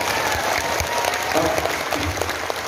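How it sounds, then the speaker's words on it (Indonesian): Audience applause at an Islamic religious gathering in Hong Kong, a dense, steady wash of many hands clapping together, fairly loud and continuous throughout with no talk over it. "Tepuk tangan untuk BMI Hongkong."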